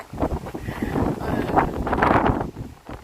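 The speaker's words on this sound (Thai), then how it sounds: "ลมแรงมาก" Strong wind buffets the microphone at a windmill viewpoint on the Phuket coast, a loud continuous roaring rumble with gusting swells, close and steady throughout.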